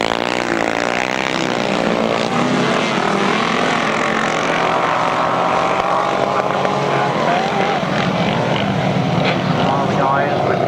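600cc grasstrack racing motorcycles roar past in a national championship final, their engines a continuous loud, rising and falling whine with overlapping machines, under a commentator's voice.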